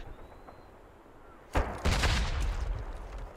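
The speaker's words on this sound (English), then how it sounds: "I can hear someone shooting at me." Gunfire in the World War II shooter Hell Let Loose: after a quiet stretch, a sharp nearby shot cracks out, then a heavy burst of shots and impacts kicking up dirt, loud and close.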